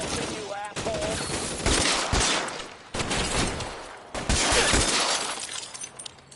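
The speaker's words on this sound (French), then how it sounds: "Arrête de tirer là. Mais qui tire là?" Video game gunfire in L.A. Noire: loud, dense bursts of rapid shots and sharp cracks fill the whole stretch, crowding in with barely a pause between volleys.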